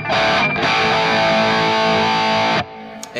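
Electric guitar through a Tube Screamer effect on a Kemper amp: a loud, thick overdriven chord held for about two seconds with a brief break near the start, then cut off.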